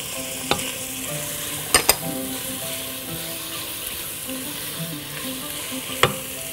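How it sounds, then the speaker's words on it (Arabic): Green vegetables and green onions are sautéed together in a pan, giving a steady close sizzle with occasional sharp clicks of a utensil against the pan and faint tonal hum behind. "طيب كده بشوح كله مع بعض الخضرة الجميلة"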